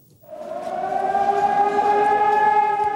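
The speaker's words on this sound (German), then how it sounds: "Punkt 11 Uhr gehen sie los, die Alarmsirenen über der Stadt." Civil defense alarm sirens over a German city wail into life during a test on 7 December 2007, rising after a brief silence into a steady, sustained, loud tone that carries with no voices.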